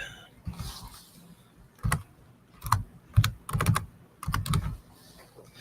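Close, clear typing on a computer keyboard, several quick clusters of clacking keystrokes with brief pauses between the bursts, no voice over it.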